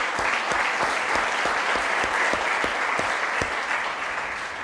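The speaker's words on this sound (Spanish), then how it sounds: "Le damos un aplauso a Dios" Church congregation applauds during a Spanish-language sermon, a loud, sustained burst of many hands clapping at a brisk, even rhythm, with no voices over it.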